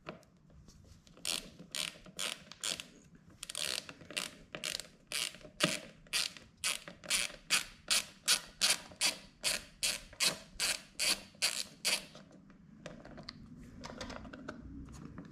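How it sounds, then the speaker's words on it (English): A bolt on the air filter cover of a Briggs & Stratton 650 series push mower is loosened with a ratchet, giving a close, steady run of sharp clicks that speeds up and then stops. "now I'm removing the air filter cover. It is just this one bolt right here"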